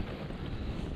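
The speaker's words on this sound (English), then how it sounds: "wee bit windy out there" Strong wind buffeting a camera microphone at a winter wild camp on Beinn Each in the Scottish hills, a steady, loud broadband roar with no talk.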